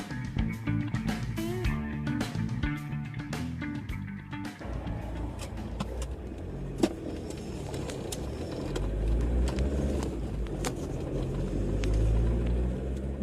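A car driving along a road, a steady low rumble that swells louder toward the end, with light music in the first few seconds and no talking.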